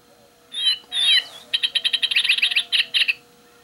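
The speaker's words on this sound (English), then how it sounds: "It makes a bird chirping sound and always catches people off guard." A battery-powered doorway gadget plays electronic bird chirps: a couple of sweeping whistles followed by a quick run of bright, repeated tweets, close and clear.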